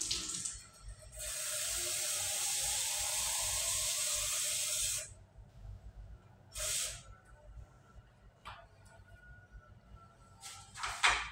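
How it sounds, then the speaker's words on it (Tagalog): Hot water pours steadily into a container for cucumber pickles, a continuous rushing splash for about four seconds, followed by quieter clinks and handling sounds. "Ngayon po lalagyan po natin ng tubig na mainit."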